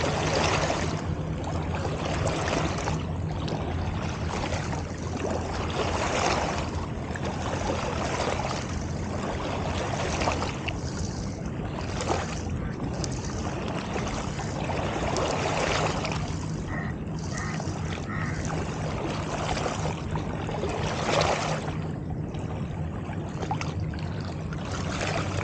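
Water lapping and sloshing steadily from the wake of a departed ferry heading to Indonesia, heard near the RTS Link by a fishing spot; a continuous broadband wash of waves with low background rumble, no talk.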